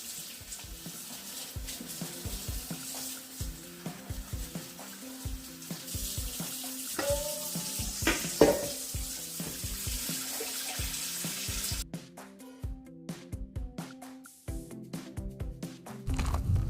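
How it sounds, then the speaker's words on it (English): Cold water running from a tap into a sink to soak lettuce, a steady hissing stream with intermittent clinks and splashes, growing stronger and changing pitch as the basin fills, no talk over it. "I'm getting some lettuce out of the way first and I'll just soak it in some cold water."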